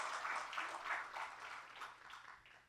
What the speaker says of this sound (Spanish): Démosle un aplauso a Él en esta hora.